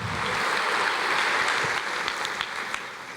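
A church congregation applauds in a sustained wash of clapping that fills a large room, steady and dense, then begins to thin out toward the end.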